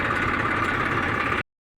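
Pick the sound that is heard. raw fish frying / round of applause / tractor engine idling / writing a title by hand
tractor engine idling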